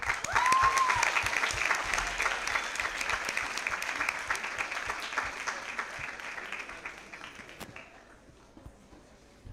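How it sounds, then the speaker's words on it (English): Audience applause at a Model United Nations opening ceremony welcoming the Secretary General, dense clapping from a large crowd that holds steady for several seconds and then thins out and fades toward the end. "Round of applause."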